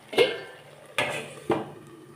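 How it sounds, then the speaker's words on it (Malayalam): Metal clatters as a pan of soya chunk masala with coconut milk is handled and covered, three distinct clanks of lid and cookware against a quiet background. "കുറച്ച് കോക്കനട്ട് മിൽക്കിൻ്റെ പാലൊഴിച്ചു മൂടി വെച്ചൊന്ന് വേവിക്കാം"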